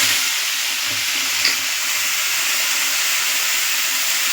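Vegetables with tomato, ginger and chili paste fry in a pan for a rui fish curry, a loud, steady, hissing sizzle close up, with a faint knock of stirring.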